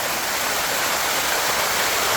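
A steady, full roar of a waterfall near Hellfire Pass in Kanchanaburi, Thailand, dense and unbroken, with a close rushing hiss filling the whole moment.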